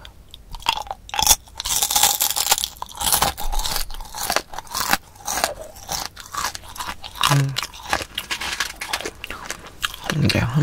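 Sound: crunchy caramel popcorn being eaten

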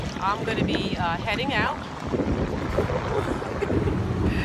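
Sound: strong wind

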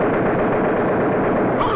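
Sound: aerial gunner firing at attacking fighter plane, 1944 training film

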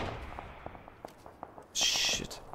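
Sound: gunfire in a video game

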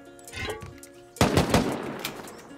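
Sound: automated turret firing at a raid base in a video game

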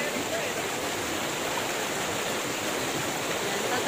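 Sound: waterfall stream at Martin Falls, Olongapo

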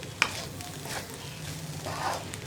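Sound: spring onion stir fry being stirred in a pan

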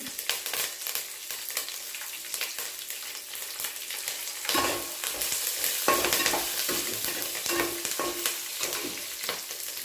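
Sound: green chillies and curry leaves frying and being stirred

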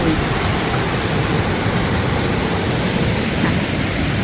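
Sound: stream flowing

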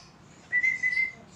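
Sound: pet bird calling during target training

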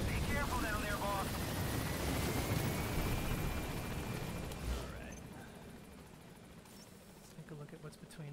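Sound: helicopter flying, from a video game

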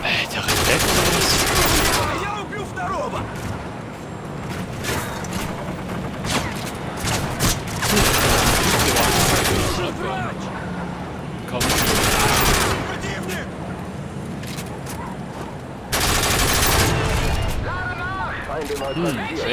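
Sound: gunfire in video game Call of Duty MW3

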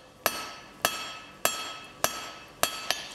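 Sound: hand forging a taper with 2.5 pound crossbeam hammer

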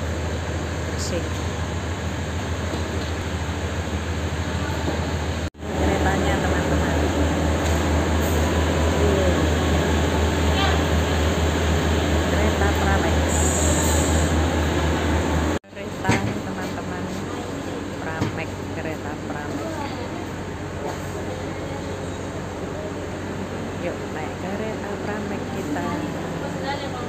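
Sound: passing passenger train

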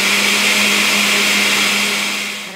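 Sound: blender blending coquito mixture

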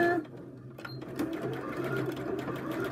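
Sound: sewing machine stitching a narrow seam

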